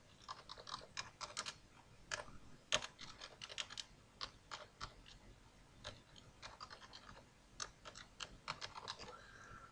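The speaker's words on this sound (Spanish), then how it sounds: "en la cual podemos teclear comandos SQL" Quiet, close typing on a computer keyboard as SQL commands are entered, irregular keystroke clicks in uneven clusters with short gaps and soft background noise, no one speaking.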